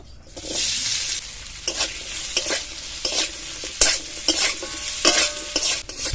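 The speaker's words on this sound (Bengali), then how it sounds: "মাছ ভাজা তেলের মধ্যে আলু দিয়ে ভেজে নেব।" Potatoes fry in oil left over from frying fish, sizzling steadily while a utensil stirs them in repeated scraping bursts, close and fairly loud throughout.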